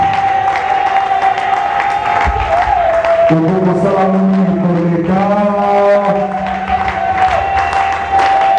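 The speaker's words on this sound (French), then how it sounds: "Acclamer pour la gloire de Jésus." A church congregation at a Sunday service in Lubumbashi applauds and cheers, steady crowd clapping and shouting throughout, with sustained sung or called-out voices rising over the noise in the middle.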